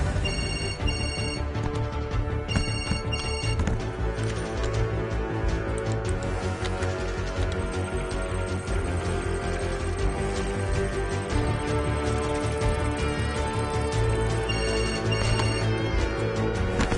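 A telephone ringing with a melodic ringtone, loud and continuous, repeating its tune steadily throughout with no talk over it.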